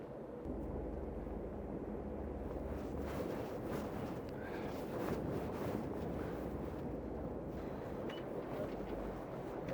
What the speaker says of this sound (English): I'll probably use the twin throttles and the bow thruster.